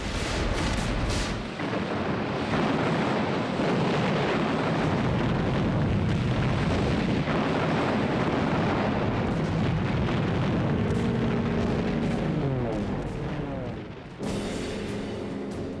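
Air and naval bombardment from an invasion fleet off Iwo Jima in 1945 World War 2 footage: a continuous roar of explosions and artillery fire, dense and loud, with a rumbling low end and a brief dip near the end.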